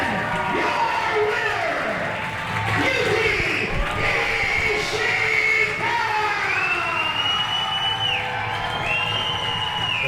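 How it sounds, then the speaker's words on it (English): A professional wrestling crowd cheers after a match ends, a loud sustained roar of voices threaded with rising and falling pitched whistles or noisemakers filling the arena. "The crowd is on their feet here."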